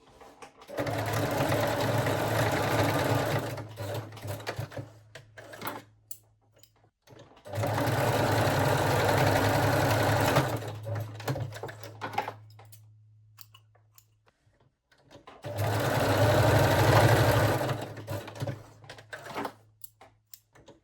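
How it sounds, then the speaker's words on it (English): Sewing machine running a straight stitch across bikini bottom straps, three loud sustained bursts of steady motor whir with pauses between as the seam is sewn forward and backward. "I am sewing 3 times forward and backward to really secure the straps."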